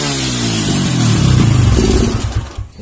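A KLX 150 motorcycle engine, being tuned at the carburetor vacuum rubber, runs with a loud close chugging idle that rises slightly, then sputters unevenly and dies near the end.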